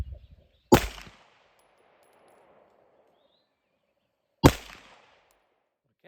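Two sharp pistol shots from a handgun fitted with an ADE Trumpet red dot sight ring out several seconds apart, each loud and close with a brief decaying echo, with quiet in between.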